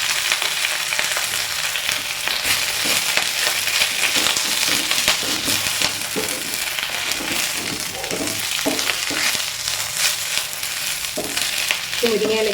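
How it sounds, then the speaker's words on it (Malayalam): Drumstick leaves frying in a pan with crushed spice paste, for a squid and drumstick leaf thoran, make a loud continuous sizzle and crackle broken by repeated scraping stirs and clatter, up close, with no talking. "ഇനി നമുക്ക് ചതച്ച് വെച്ചിരിക്കുന്ന അരപ്പൊടി ഇട്ടു."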